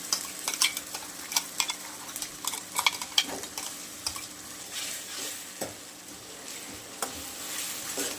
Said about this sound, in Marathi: आता तेल सुटेपर्यंत परतून घेणार आहे कांदा आणि टोमॅटो प्युरी